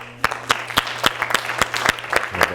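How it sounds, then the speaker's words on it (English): A small group claps in a classroom drama session, sparse irregular claps ringing out separately at moderate volume with a faint steady hum underneath. "All right, give a round of applause."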